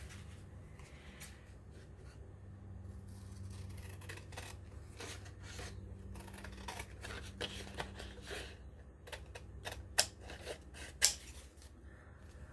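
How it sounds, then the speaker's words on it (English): Scissors snip through paper while a shaker card is being made, producing a series of soft crisp cuts and rustles that grow sharper near the end, with no talking. "I'm gonna have to use scissors."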